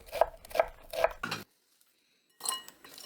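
Four quick knife chops strike a cutting board in a steady rhythm, then a pause, then another clatter of kitchen utensils.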